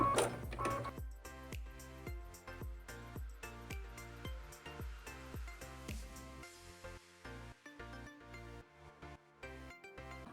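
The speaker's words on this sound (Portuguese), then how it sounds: "E agora a máquina vai fazer então a costura de fechamento desse gorrinho." An embroidery machine stitches the closing seam of a small plush toy, its needle thumping in a fast, steady mechanical rhythm with rattling clicks throughout, close and moderately quiet.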